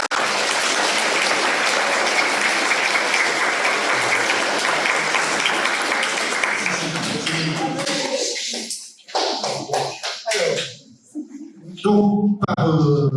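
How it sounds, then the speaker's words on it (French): Audience applauding the staff of the Maison d'Izieu at an awards ceremony, dense sustained clapping for about eight seconds that then thins into scattered claps and fades, with a voice emerging near the end. "vous tous d'applaudir le personnel de la maison d'Isieux"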